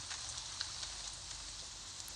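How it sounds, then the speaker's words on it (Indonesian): Steady rain in a survival video game pours down as a continuous, even hiss with faint scattered droplet ticks throughout. No one speaks. "Hujan."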